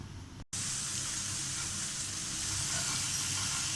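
A pot of eggs boiling for egg biryani puts out a steady, close hiss of steam and bubbling. It follows a brief dropout at the start and continues unbroken with no talking.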